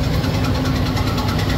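A new John Deere sugarcane harvester's engine runs close by with a steady, rough, vibrating drone and no pauses.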